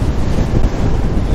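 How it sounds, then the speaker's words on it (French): Strong wind buffets the microphone during an outdoor bike ride, a loud, continuous rumbling roar that fills the short stretch with no voices. "il y a vraiment trop de vent là."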